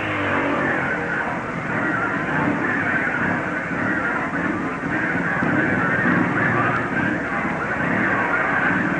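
Racing motorcycles at the 1958 Catalina Grand Prix, including 250cc machines, roar continuously at close range with a dense, steady engine drone and no pauses.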